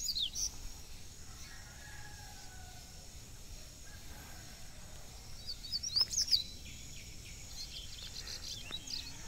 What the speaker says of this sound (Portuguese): passarinho de Naldo aí cantando de cara